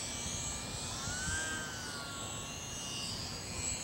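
A UMX Sbach RC model airplane flying overhead gives a steady, moderately faint motor drone with a whining tone that slowly rises and falls in pitch.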